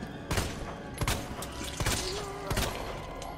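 Gunshots in the survival horror game Resident Evil 2: four sharp, evenly spaced shots ring out close and loud over a dull background rumble.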